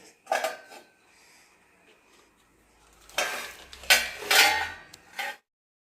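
Pots and dishes clatter and clink in a home kitchen in two bursts, a short one at the start and a louder cluster later, separated by a near-silent pause.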